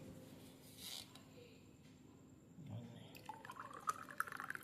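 A cooled homemade drink is poured into a glass, heard as a thin trickle and small splashes in the last second and a half, faint and close.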